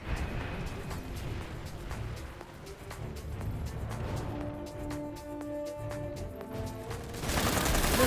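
Rapid gunfire in Planetside 2 crackles throughout a large online battle, dense bursts layered with vehicle rumble and scattered impacts, growing louder and harsher near the end.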